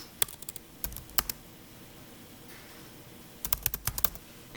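Someone types on a computer keyboard while building a website. Short bursts of crisp key taps are separated by a quiet pause, close and clear, with no voices.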